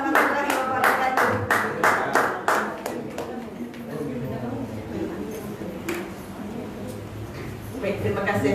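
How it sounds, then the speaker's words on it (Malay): An audience clapping at a Malaysian talk event, with several loud, rhythmic claps early on, then looser scattered applause under a voice talking. "Beri tepukan hebat kepada beliau."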